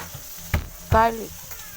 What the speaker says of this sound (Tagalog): lagay na lang natin guys ng mga isda and then hintayin lang natin na maging color brown na siya guys